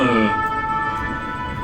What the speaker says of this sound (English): Plusieurs quarts de sapeurs-pompiers, plusieurs ambulances.